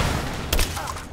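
An explosion in the video game Rise of the Tomb Raider, a short loud booming burst in the middle of ongoing gunfire-like game sounds, close and punchy.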